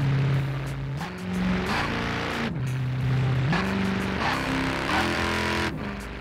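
A race car engine in Forza Horizon 4 revs repeatedly while held on launch control, loud and close, the pitch climbing and dropping in several rhythmic swells as the throttle is blipped and eased.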